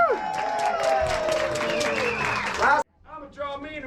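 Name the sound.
audience applause and cheering for the gunslinger performer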